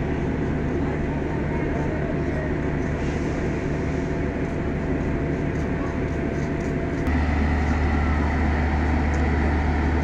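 A train stands at Joydebpur station before departing, with a steady loud engine rumble and hum throughout that deepens near the end, under faint background activity.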